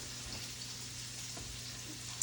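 Peppers and onions sauteing in a pan, a faint steady sizzle with a low hum underneath and a few soft stirring knocks, fairly quiet and without talk.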